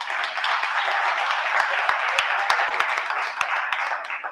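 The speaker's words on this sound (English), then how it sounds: "So I think we really need to deserve a round of applause." Audience applause from a crowd at a talk or panel event, steady dense clapping with a few sharper individual claps standing out, sustained for about four seconds with no speech.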